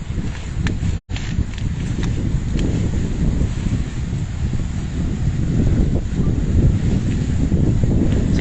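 Strong wind at sea roars and buffets the microphone nonstop, with a brief dropout near the start and distant water sounds underneath.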